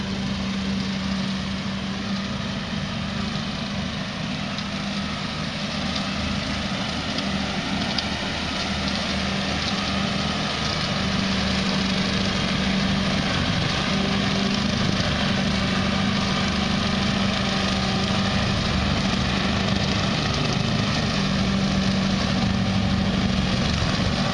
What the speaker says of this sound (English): Here, let's show you the tractor.